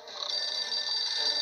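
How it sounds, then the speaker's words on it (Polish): Telephone ringing in the survival video game 60 Seconds, a steady, continuous electronic ring that sounds fairly close and clear, with no talk over it. "Odbija i coś dzwoni."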